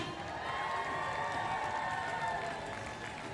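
Road race spectators at Falmouth cheering and applauding in a steady, dense roar that fills the whole moment, with no clear single voice standing out.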